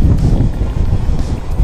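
Strong 30-knot easterly gale roaring across a sailboat flying a tiny jib on rough seas, a steady loud low rumble of wind buffeting the microphone with no break.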